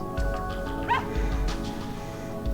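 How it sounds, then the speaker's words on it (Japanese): A small pet dog in the visual novel game Ever17 gives a few short high yipping barks and a whimpering whine over background game music. "こっちが愛犬のピピ。"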